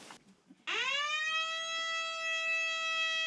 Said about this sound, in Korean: 화재 발생 알람 밸브가 작동하는지도 꼼꼼히 점검합니다.